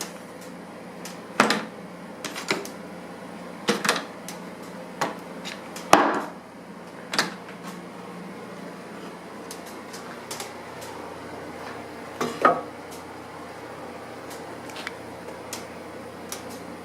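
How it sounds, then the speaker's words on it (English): Woodworking clamps come off a glued bandsaw fence in a quiet shop, heard as scattered sharp knocks and clicks several seconds apart over a low background hum, with no speech. "let's go ahead and remove these clamps"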